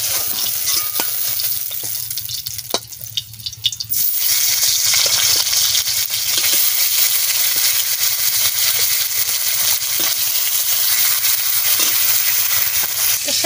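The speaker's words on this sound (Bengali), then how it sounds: "লাল লাল করে মাছ ভেজে নিচ্ছি।" Tilapia pieces frying in hot oil, a loud, continuous sizzle and hiss heard close up and alone, swelling sharply after a few seconds and holding steady with faint stirring clicks.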